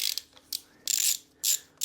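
A hand ratchet clicks in quick close bursts while backing out studs on an engine timing case cover, several short ratcheting runs separated by brief pauses, no voices.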